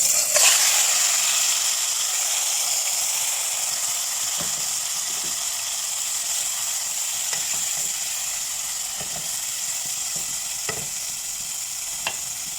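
Marinated beef fries in a little oil in a pan with a loud, steady, close sizzle, punctuated by a few faint clicks of a utensil.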